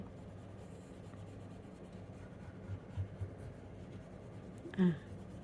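Oil pastel rubs softly across white paper in a faint, continuous scratchy drawing sound, with a brief louder scrape near the end.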